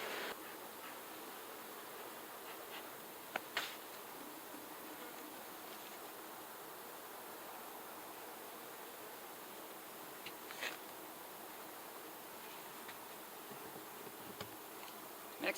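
Honeybees swarming around the front of a beehive outdoors make a faint, steady buzzing drone that carries on unbroken, with a few soft ticks and rustles.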